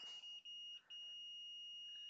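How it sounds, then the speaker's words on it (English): Continuity beep from a multimeter with probes on a board during PS4 Pro HDMI encoder repair: a steady, clear high tone sounding through the whole clip with two brief dips, quiet and close, with no talk. "we're going to see if we get a beep."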